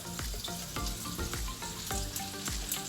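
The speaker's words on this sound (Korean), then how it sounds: "살라미랑 고추 이렇게 볶아주시면서 다진 마늘도 이제 넣어주실 건데요." Salami, chili and minced garlic frying in a pan over gentle heat, a soft continuous sizzle with regular dull thumps and scrapes of stirring throughout, no voices.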